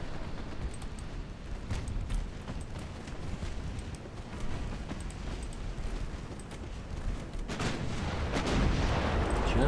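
Heavy warship guns boom in the naval battle game Ultimate Admiral Dreadnoughts, a dense, continuous rumble of overlapping distant cannon fire and explosions that swells louder toward the end.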